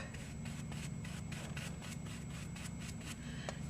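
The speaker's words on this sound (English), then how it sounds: "I'll use a wet stamp chamois to clean it off" A rubber stamp is rubbed clean with a wet chamois during card making, producing a close, steady series of soft rhythmic scrubbing strokes with no talking.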